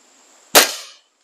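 A single sharp shot from a Diana 34 .22 air rifle, a crisp close crack with a short decaying ring, alone against near silence.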